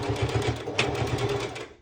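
Sewing machine running steadily while stitching a triangle festival top, with a fast, even mechanical stitching rhythm that is close and continuous and then stops near the end.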